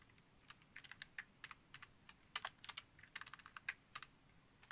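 Typing on a computer keyboard, a close, quiet run of crisp key clicks in uneven bursts with short pauses between words, with no voice present.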